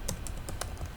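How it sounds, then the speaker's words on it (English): Keys on a computer keyboard tapped in a short burst of about five crisp clicks while a command is entered at a Windows command prompt, close and fairly steady over a low background hum. "Now you can check the version of Python by typing py"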